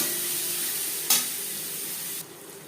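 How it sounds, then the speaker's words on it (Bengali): Two large chopped onions hitting oil left from frying duck eggs, a steady close sizzle with a brief sharp hiss as they go in, easing slightly toward the end. "ডিম ভেজে নেওয়া তেলে দিয়ে দেবো পেঁয়াজ কুচি।"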